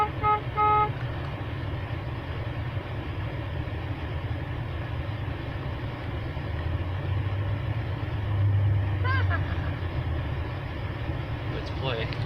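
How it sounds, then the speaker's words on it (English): Car horns honking in a game, several short toots and a longer blast sounding over steady traffic-like rumble, with brief horn bursts near the start and again toward the end. "We're gonna start the honking madness."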